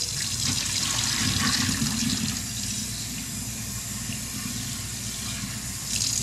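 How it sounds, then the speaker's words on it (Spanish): Water heating to a boil in a small pot on a home stove, giving a steady, fairly loud rushing bubble that holds evenly throughout with a slight swell near the end. "Va hirviendo."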